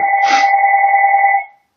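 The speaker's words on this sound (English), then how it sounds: "sorry, that's my phone." A mobile phone rings with a steady electronic two-tone chime, loud and close, sustained for over a second before cutting off, with no talking over it.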